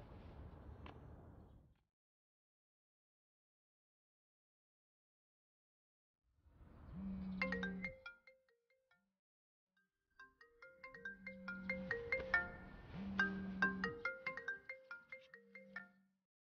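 In a Chinese drama scene, a phone rings out while a call is placed: faint electronic tone bursts after a stretch of near silence, then a longer run of melodic beeps toward the end.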